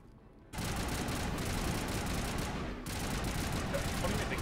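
Gunfire in the Mass Effect video game on the hardest difficulty, a sustained rapid stream of automatic shots that begins abruptly and continues dense and loud to the end, with a brief dip partway through.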